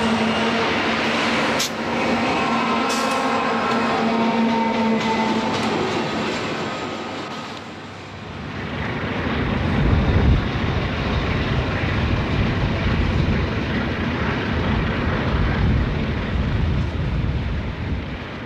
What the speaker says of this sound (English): we find a westbound led by an SD24 and an Alco RSD15 behind it, smoking it up as they crest the summit and prepare for the downhill run